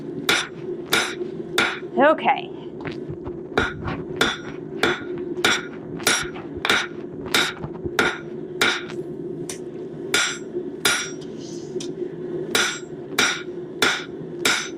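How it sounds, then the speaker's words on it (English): A hand hammer rings on hot steel while a straight bottle opener is forged, about twenty sharp, regular blows close by, with a short pause and a brief spoken word. "I am not holding my hammer very well today."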